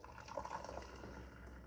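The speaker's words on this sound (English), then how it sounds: "what I'm going to do now is pour that beautiful water" Freshly boiled water from a kettle poured into a mixing bowl for a Caribbean recipe, heard as a faint, steady, continuous liquid stream with no speech over it.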